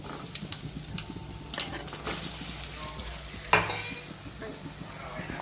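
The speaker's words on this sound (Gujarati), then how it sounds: "એ તતરી ગઈ છે, તો હવે એમાં આપણે તલ એડ કરી દઈશું. ખમણ એડ કરી દઈશું." Sesame seeds and khaman crackle and sizzle in hot tempering oil, a dense, close, steady frying hiss broken by a few sharp clattering stirs.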